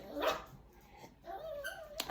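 Dogs bark and whimper at a moderate distance, a short burst of yips followed by a high whining cry, with no one talking.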